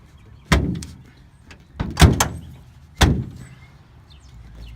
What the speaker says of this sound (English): But the hood closes.